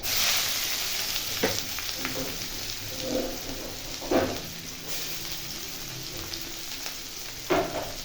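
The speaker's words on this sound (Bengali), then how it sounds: "ভালো করে ভাজার পরে দিয়ে দেবো এতে আমি কুচিয়ে রাখা পেঁয়াজ" Chopped onion sizzling in hot oil for a Bengali masoor dal with papaya, a steady soft crackle with a few louder stirring scrapes and spatters at intervals, fairly quiet and close.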